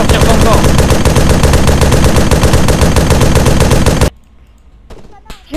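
Sustained automatic gunfire in Arma 3, a loud, rapid stream of close shots lasting about four seconds, then cutting off abruptly to near quiet with a few faint sounds after.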